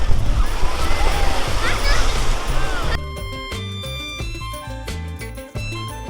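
Sea waves wash and splash at Digha beach, a loud churning surf for the first half before fading under music, with voices mixed in.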